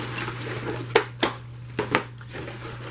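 Small metal tools and Allen wrenches clink and rattle inside an RC car box, a handful of sharp separate jingles over a low steady hum.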